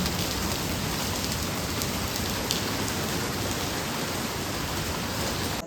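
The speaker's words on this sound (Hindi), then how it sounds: "बारिश हो रही है और तेज वाली बारिश हो रही है, बादल भी गरज रहे हैं" Heavy rain pours steadily outside a home at night, a dense, constant hiss close by with no distinct thunder rumble standing out and no voices.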